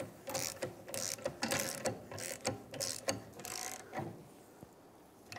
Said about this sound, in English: let's start pressing the bushing out.